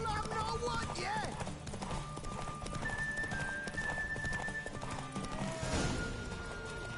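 Clip-clopping hooves of a galloping horse in the video game Witcher 3, with whinnies and neighs over a busy game soundscape, while a voice talks over it.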